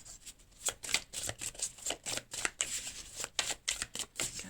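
A deck of tarot cards being cut and handled, a close series of crisp riffling card flutters and soft slaps in an irregular rhythm, without talk.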